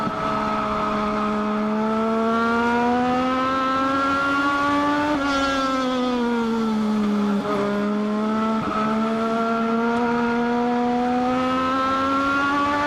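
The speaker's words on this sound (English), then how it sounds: "Dylan, Tim, fender to fender, bumper to bumper as they roll underneath the Pepsi-Cola scoreboard" Race cars circle a speedway track, engines droning loud and steady with rising and falling pitch as they run fender to fender near the finish of a Legends main event, with brief shifts as the pack passes.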